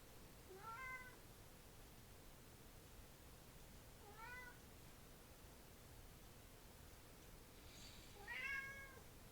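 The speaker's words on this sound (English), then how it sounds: "There's a cat meowing." A cat meows three times at even spacing, faint and distant against a steady background hiss.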